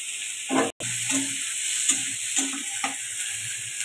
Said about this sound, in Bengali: অল্প করে দুটো জিরা ফোড়ন দিয়ে দিলাম, এর মধ্যে দিয়ে দিচ্ছি পেঁয়াজ